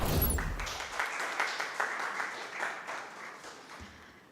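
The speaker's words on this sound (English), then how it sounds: "We do so with a round of applause." An audience at a conference gives a round of applause to welcome a presenter, a dense burst of clapping that holds steady and then gradually thins and fades.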